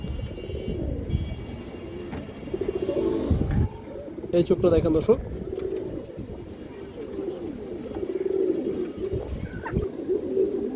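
Soft cooing of pigeons of several fancy breeds rises and falls in a low murmur, with a person talking over it much of the time.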